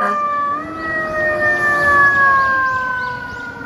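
Red toy fire truck siren wailing in a steady electronic rising-and-falling tone, loud and close, with no talk over it.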